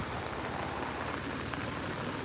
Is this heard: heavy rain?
yes